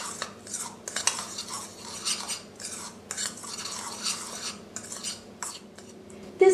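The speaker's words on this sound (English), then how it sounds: "Stir to mix all the ingredients and set aside." A utensil stirs a dry seasoning mix of oregano and black pepper in a small bowl, giving repeated close scraping and clinking strokes in an irregular rhythm with no voices.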